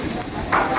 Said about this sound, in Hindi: हम बहुत लकी हैं कि बारिश हो रही है